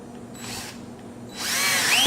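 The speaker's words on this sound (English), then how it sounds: "After I have it positioned where I want it, I'll take one of my center screws and drive it in." Power drill driving a screw into a wooden desk drawer, heard as a short whir that pauses and then rises into a louder, sustained drive, close up with no talking.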